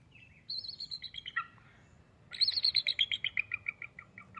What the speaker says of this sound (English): which is more the cackling sound, that's the bald eagle